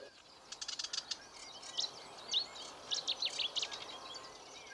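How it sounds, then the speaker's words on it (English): Many marsh birds sing and chirp at once in a dawn chorus, high bright calls overlapping in a steady busy chorus over a soft background hiss, some distant. "the birds are putting on a fabulous display because this is the dawn chorus"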